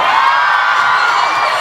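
A large crowd at an outdoor stage show for a city anniversary celebration in Payakumbuh shouts and cheers in a sustained, loud roar, close and continuous throughout with no pauses.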